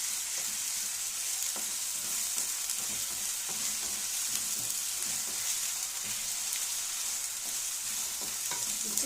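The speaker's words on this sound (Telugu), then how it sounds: "ఇది 1 స్పూన్ వేసుకున్నాం. పచ్చివాసన పోయిందాక అలా వేయించుకోవాలి" Ginger garlic paste fries in oil for a home chicken curry, a steady close sizzle with occasional soft stirring scrapes and no talking.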